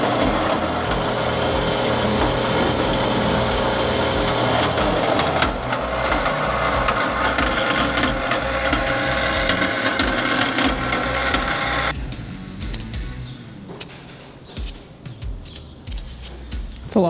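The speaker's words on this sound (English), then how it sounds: "Just take the cutoff wheel and cut them." Cutoff wheel grinding through metal in a garage, a loud continuous abrasive whine and buzz for about twelve seconds, then quieter intermittent clatter and handling noises.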